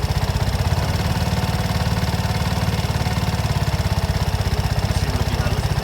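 A Vespa Matic S 125 scooter engine idles close by with a fast, even, steady putter, running smoothly throughout without revving or voices.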